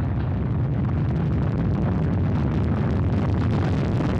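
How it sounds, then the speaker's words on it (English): Soyuz MS-12 rocket engines roaring at maximum thrust during liftoff, a steady, dense, crackling rumble that fills the whole clip without a break. "Engines at maximum thrust, liftoff."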